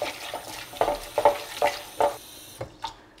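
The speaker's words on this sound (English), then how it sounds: "We're gonna put some cold water." Cold water splashes over salted, sliced cucumbers in a kitchen, arriving in several short, close gushes and spatters at an uneven rhythm.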